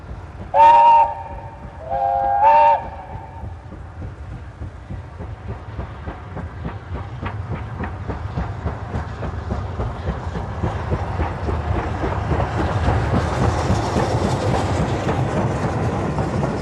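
A British Railways express steam locomotive sounds two short whistle blasts, then runs on with a steady, rhythmic chuffing and clatter that grows louder and denser.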